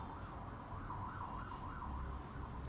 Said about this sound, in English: And here goes the ambulance noise.